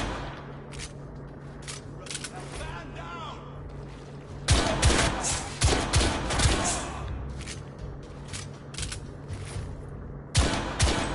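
Gunfire from the video game The Order: 1886 cracks out in sharp bursts and volleys, several loud shots clustering near the middle and one more near the end, over a quieter bed of game ambience.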